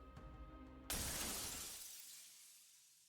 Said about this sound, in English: There's the sound of glass breaking.